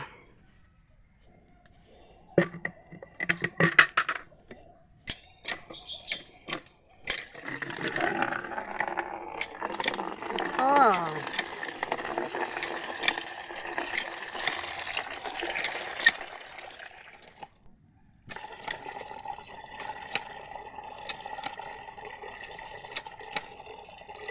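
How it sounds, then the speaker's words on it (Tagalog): A hand water pump on a farm is worked, and water gushes and splashes steadily into a container, close by and moderately loud, with faint birdsong around it. "Kukuha tayo ng tubig sa bomba."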